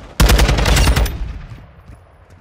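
Rapid burst of automatic gunfire in Call of Duty Modern Warfare 2, about a second of loud close shots that then decay into a faint trailing echo.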